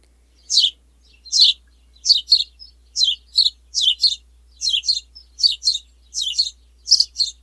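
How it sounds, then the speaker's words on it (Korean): A small bird chirps alone, repeating bright, high double-note calls at a steady rhythm against a quiet background. "이렇게 새가 지저귀는 소리도 생각이 났어요"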